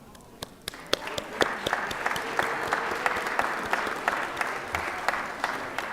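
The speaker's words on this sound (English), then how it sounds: "let's give them an applause" Applause from a gallery crowd in a state legislative chamber during a Senate session, steady sustained clapping that fills the room, with a few sharper individual claps standing out near the start.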